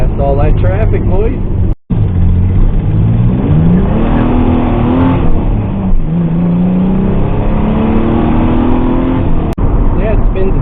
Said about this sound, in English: Yeah, it spins a tire on takeoff.